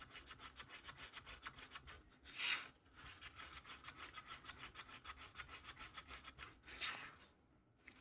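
White pigment is stirred into Craft Resin epoxy with a steady scraping, rubbing rhythm against the cup, quiet and close, with two brief louder scrapes partway through.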